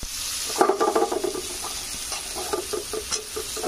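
Chopped potatoes with ginger, garlic and cumin sizzle in a pan while being stirred, with scraping bursts of stirring over a steady frying hiss.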